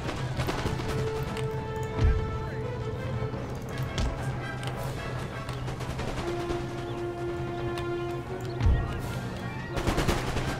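Scattered musket volleys in the Empire: Total War video game, a few distant booming shots over a busy steady battlefield din with tones and faint crackling, no talking.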